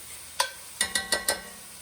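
A spoon scrapes and stirs vegetables sizzling in a pan, with one stroke and then four quick scraping strokes over a faint background frying hiss.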